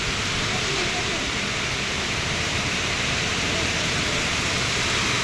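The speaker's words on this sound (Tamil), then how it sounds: "எப்பா சரியான மழை இன்னைக்கு" Heavy rain pours outside in a steady, dense hiss, unbroken and even throughout with no pauses or distinct drops standing out.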